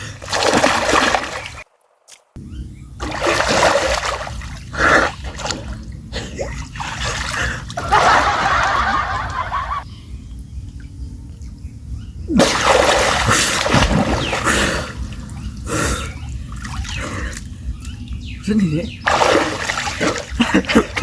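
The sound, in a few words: water splashing as people dive into water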